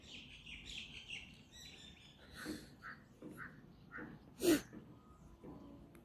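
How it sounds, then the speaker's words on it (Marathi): Birds chirp in short scattered bursts around a farmhouse in open countryside at Karjat on a cold day, moderately near over quiet background, with one louder sneeze-like burst partway through and no clear speech. "पक्ष्यांचा आवाज किलबिलाट."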